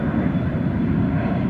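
A commercial airplane taking off at Austin-Bergstrom airport with a loud, high-pitched engine roar that holds steady and close, with no talk over it.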